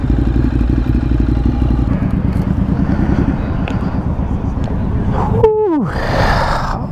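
A motorcycle engine thrums loudly and close at the end of a ride, then cuts out near the end, followed by a brief whining sweep and a breathy rush.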